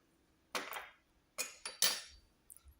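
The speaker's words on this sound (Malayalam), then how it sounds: "ഇത് നമുക്കൊന്ന് ഇളക്കണം." A spoon stirs moong dal dhokla batter with curd and asafoetida in a bowl, giving four short scraping, clinking bursts at uneven intervals, close and fairly quiet, with no talk.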